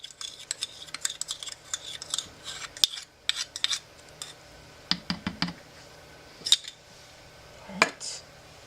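A tool scrapes cedarwood blend soap batter out of a container in a home soapmaking setup, giving quiet, close, irregular scratchy scrapes and small taps in short bursts with pauses between.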